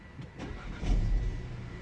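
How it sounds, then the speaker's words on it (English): A VW Golf GTI engine cranks and catches, a short low rumble swelling then settling into a steady idle, close and moderately loud. "when you do start the car up"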